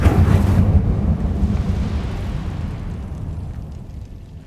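The Incendio fire spell from Hogwarts Legacy erupts as a loud, close whoosh and roar of flame, strongest at the start, then rumbling and fading gradually over a few seconds.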